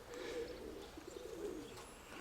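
Soft, continuous cooing of pigeons, fairly faint, with steady outdoor background noise and no talking.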